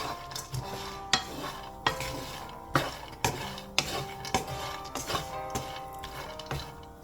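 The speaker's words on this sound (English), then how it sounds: "I'm roasting some pecans in a pan on the stove" Pecans roasting in a pan on the stove, stirred in a steady rhythm of repeated metallic scrapes and clinks about once a second, close and clear over a light sizzle.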